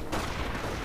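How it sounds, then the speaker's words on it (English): Gunfire from a sniper rifle in the World War II strategy game Company of Heroes, a single sharp report followed by a short, dense rattle of battle noise. "I'm just going to have my sniper start taking, pretty much sniping them through the window."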